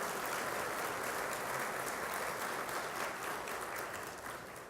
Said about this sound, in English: Give yourselves a round of applause for making it in early this morning.